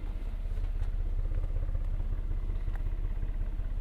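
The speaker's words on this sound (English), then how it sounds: "Listen to the exhaust." The V6 exhaust of a 2023 Kia Telluride idles with a low, steady, burbly rumble, close and even throughout with no talking over it.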